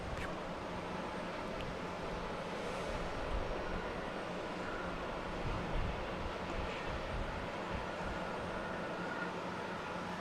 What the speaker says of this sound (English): We have American Airlines, a 737-800 coming in from Dallas-Fort Worth.